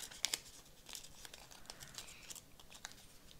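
Thin plastic film being peeled off an old-looking book page during a craft project, a close, soft crinkling with a few sharp crackles early on, quiet and with no talking.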